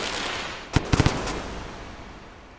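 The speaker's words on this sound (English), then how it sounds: "it sounds like if I throw the fireworks in front of these" Fireworks thrown in the Rain World video game pop off in a quick cluster of four or five sharp cracks about a second in, then fade into a soft echoing tail over a quiet background.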